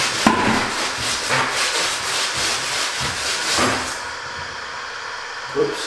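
Sticky tape rolled up and down over a fuzzy paint roller for Venetian plaster work, giving a steady scratchy rubbing with rhythmic strokes close by, then quieter brushing near the end.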